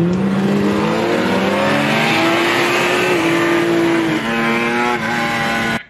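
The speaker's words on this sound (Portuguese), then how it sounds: "Repare na Fulltech desligando." An Opala car engine with Fulltech injection running loud and close, its drone rising and shifting in pitch before the sound drops away abruptly at the end as the engine shuts off.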